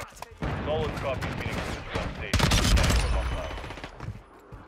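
Decoy grenades in Modern Warfare 2 give off fake bursts of gunfire, dense loud volleys of rapid shots that rise to a heavier stretch midway, heard up close in the thick of a multiplayer match.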